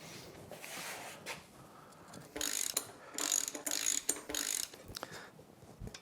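Ratchet tightening a part on a MerCruiser Bravo 2 sterndrive gearcase, several bursts of quick close clicking strokes separated by short pauses, with no talk.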